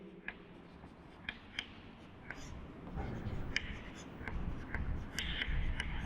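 Chalk or marker taps and strokes on a board during a Class 8 maths lesson on quadrilaterals, faint scratchy marks scattered over a low background murmur.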